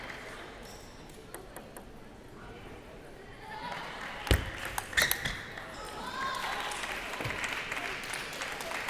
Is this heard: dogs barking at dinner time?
no